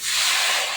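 A splash of water hits dry bottle gourd greens in a hot pan and sets off a sudden loud hiss of steam and sizzle that lasts under a second, close up.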